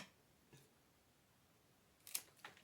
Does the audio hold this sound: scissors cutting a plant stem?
yes